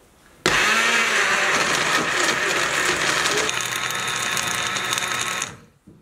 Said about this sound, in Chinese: 我这个料理机是家里最普通的一款，所以应该大家的料理机都可以用